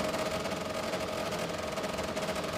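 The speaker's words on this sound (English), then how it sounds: "sounds like a Wankel engine" A Wankel-engine hot saw screams at a steady high pitch at a timbersports championship, a continuous dense drone with no pauses and no talk over it.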